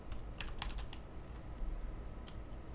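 Fingers type on a computer keyboard, a quick run of clicks followed by a few scattered keystrokes over low room hum, with no voices.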